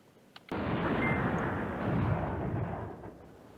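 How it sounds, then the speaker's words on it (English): Airstrike explosions in the wargame Command Ops 2 burst in abruptly as a loud, broad roar that holds for about three seconds and then fades slowly. No one speaks. "Okay, so we've got an airstrike."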